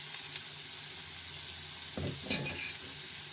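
Boiled broad beans being stirred in a pan with curry leaves: a soft, even sizzling hiss, broken near the end by a couple of brief scraping strokes of a spoon.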